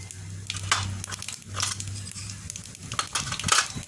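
Chana dal and urad dal frying in hot oil for cabbage tomato pachadi, crackling and sizzling in irregular close bursts over a low steady hiss.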